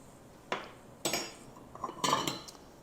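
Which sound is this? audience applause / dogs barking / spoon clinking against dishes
spoon clinking against dishes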